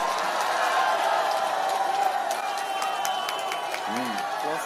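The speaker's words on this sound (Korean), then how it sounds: "박수로 환영해 주십시오." A large crowd at a political campaign rally in Iksan, South Korea cheers and claps in a steady, sustained roar, with scattered whoops rising over the noise.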